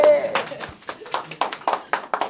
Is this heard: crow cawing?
no